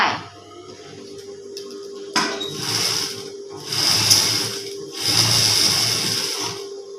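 Sewing machine stitching the inner seam of a Thai wrap skirt. Three close bursts of whirring stitching rise over a low steady motor hum, with short pauses between runs.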